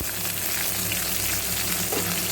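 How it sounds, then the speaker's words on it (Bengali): Chopped onions frying loudly in hot oil with cardamom, cinnamon and cloves, a dense, continuous close sizzle that stays unbroken throughout. "পেঁয়াজগুলোকে অনেকক্ষণ ধরে ভালো করে লাল লাল করে ভেজে নেব"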